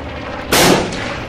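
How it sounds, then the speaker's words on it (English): A bomb explosion in the video game Post Scriptum bursts out as a single loud, broadband blast about halfway through, then rumbles and fades over the next half second against a low background. "Bomb."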